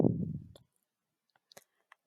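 A few faint, sharp computer mouse clicks, spaced irregularly and heard close in otherwise near silence, following a short burst of speech.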